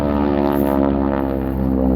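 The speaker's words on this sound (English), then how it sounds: "you can hear the difference in the sound of the two-bladed Harvard and Ford aircraft" Two-bladed Harvard aircraft with its propeller engine running, giving a loud, steady drone with a strong harmonic buzz that holds evenly throughout.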